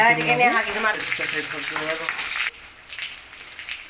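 Mustard seeds and cumin sizzle in hot oil in a pan while being stirred. The crackling frying is close and fairly quiet, and someone talks over the first half.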